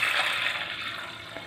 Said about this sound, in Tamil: தேவையான அளவு தண்ணி ஊற்றி